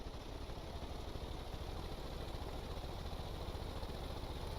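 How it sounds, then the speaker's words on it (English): A tractor engine in Stormworks labors uphill in fifth gear, giving off a dense, constant drone with rough low-end vibration at an even level throughout, with no talking. "you hear the engine kind of struggling because it, it's trying in 5th gear"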